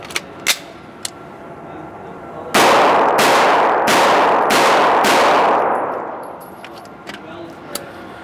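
A SIG Sauer MPX 9mm pistol-caliber carbine fires five quick, loud shots in a steady string at close range, followed by a long fading echo and faint metallic clinks.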